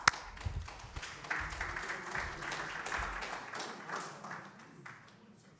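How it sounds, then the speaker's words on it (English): A conference audience at an oil and gas industry event applauding the speakers, a moderately distant patter of many hands clapping that gradually thins out and fades. "So a big round of applause,"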